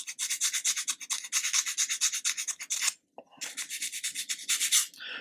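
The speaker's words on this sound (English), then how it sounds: "you'll have to do a lot more sanding." Rhythmic hand sanding of a wooden model display stand, quick back-and-forth rasping strokes in steady bursts, a brief pause, then the scraping resumes close by.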